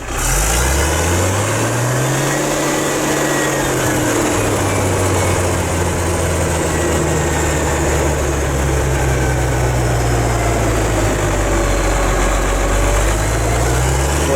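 An engine with a starting problem cranks and fires, its pitch rising then settling into a loud, steady, rumbling idle that runs on, close by, with no talk.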